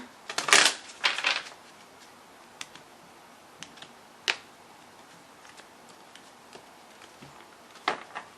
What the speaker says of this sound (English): Let me give those another shuffle.